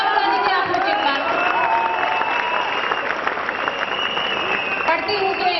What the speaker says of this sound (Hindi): तालियां बजा दीजिए आप लोग एक बार।